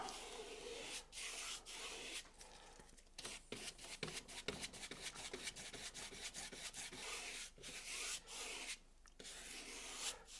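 An acrylic brush worked across canvas while painting sand, a close, quiet scratchy rubbing made of repeated short strokes that run on steadily.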